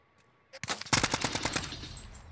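Rapid gunfire bursts out in a Call of Duty: Warzone match after a short quiet lead-in, a loud close volley of sharp repeated shots that fades into an echoing tail.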